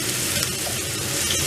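Melting butter is stirred in a pan for basting a rack of lamb, giving a brief, continuous close-up sizzle with soft scraping of the spoon, no speech.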